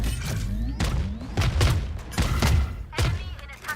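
A volley of video game missiles launches in about five successive whooshing blasts, each with a rising tone and a booming thump, loud and close.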